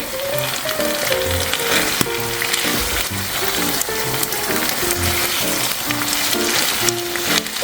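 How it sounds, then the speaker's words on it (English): Bolognese sauce and pasta being stirred together in a hot pan give a steady, close sizzle with soft scraping stir strokes throughout. "just stir around the sauce and the pasta so that it all combines together."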